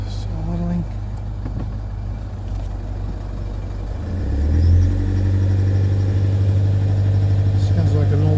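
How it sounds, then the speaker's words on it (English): A Toyota Prado with a D4D diesel engine, recently fitted with reconditioned injectors after a heavy knocking fault, idles with a steady low hum that grows louder midway, while a voice talks over the first part. "Idling."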